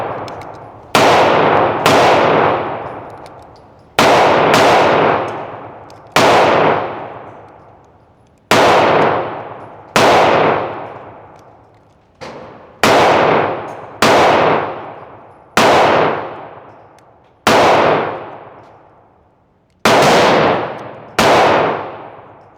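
Gunshots at an outdoor shooting range during a Glock 25 Gen 3 session, loud sharp single cracks with long ringing decays, fired in pairs and singles spaced a second or more apart.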